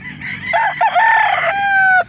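A three-year-old Sweater gamefowl rooster at a livestock market in Calauan, Laguna, crows once, loud and close, its call rising and then holding before cutting off.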